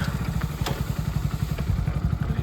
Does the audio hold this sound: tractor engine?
yes